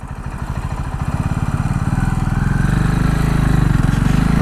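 A KTM Duke 690 R single-cylinder motorcycle runs up from a low rhythmic thump into a steadier, louder drone, heard close as the bike is ridden on a test drive.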